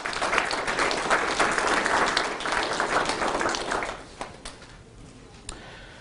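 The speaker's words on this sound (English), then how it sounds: "Give a round of applause if you don't mind." Audience applauding at a mayor's State of the City address, sustained clapping for about four seconds before fading to a few scattered claps.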